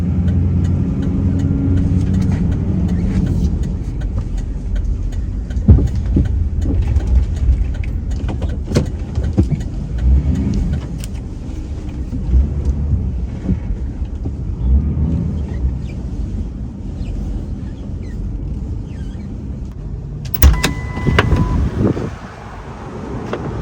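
A car makes a U-turn near a bus stop, with a steady engine rumble and road noise throughout and wind buffeting the microphone, plus a few sharp knocks and clicks along the way.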